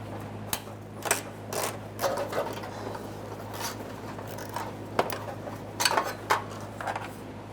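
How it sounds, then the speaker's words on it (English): 14mm bolt being removed from a fuel tank strap on a 1994-1997 Honda Accord, scattered close metallic ratchet clicks and clinks over a low steady hum. "we can remove our 14mm headed bolt that's holding the fuel strap to the body of the vehicle"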